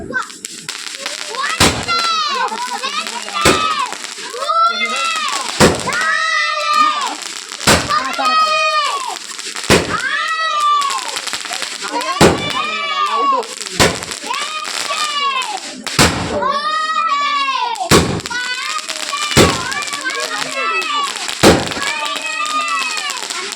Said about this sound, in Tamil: வா பட்டாசு அடிக்கலாம்.